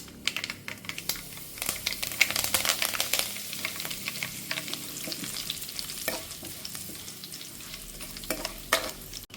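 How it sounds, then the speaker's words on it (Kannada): Curry leaves drop into crackling tempering oil for a green mango tokku, producing dense, sharp popping and spitting crackles over a continuous sizzle, loud and close throughout. "ಒಗ್ಗರಣೆ ಸಿಡಿತಿದ್ದ ಹಾಗೆ ಕರಿಬೇವಿನ ಎಲೆಗಳನ್ನು ಹಾಕ್ಕೊಳ್ತೇನೆ."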